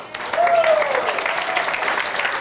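Audience at an awards banquet applauds, a dense steady wash of clapping from a room full of people while a speaker talks over it.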